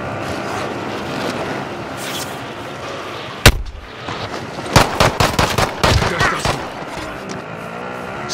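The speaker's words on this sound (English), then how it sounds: "Taking direct fire!" Gunfire in the video game Call of Duty: Modern Warfare: one loud heavy blast, then a rapid string of sharp repeated shots, over steady battle noise and background rumble.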